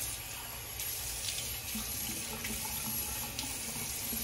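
A tap runs steadily to rinse a razor during a wet shave at a sink. The water makes a soft, continuous splash, heard fairly quietly and with no talking.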